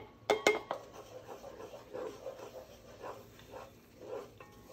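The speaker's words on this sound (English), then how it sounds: "So now I'm about to add that 1 cup of flour in there. Stir that flour in there." Butter and flour being stirred in a pot to make a roux, with a couple of sharp metallic clanks followed by soft, faint scraping strokes of the spoon.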